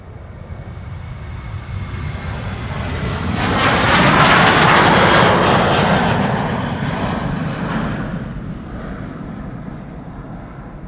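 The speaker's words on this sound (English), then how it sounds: "KLM flight 601 to LAX, that's a 787-10" KLM Boeing 787-10 Dreamliner departing Amsterdam Schiphol for LAX, a jet engine roar building from a distant rumble to a loud peak midway and then fading away, with no voices.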